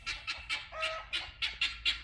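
Guinea fowl calling near a garden fence, a run of harsh, rhythmic squawking notes repeated about eight times, moderately faint over a low background rumble.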